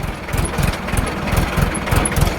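Farm tractor engine running, a loud, close, steady rhythmic chugging throb with continuous mechanical vibration.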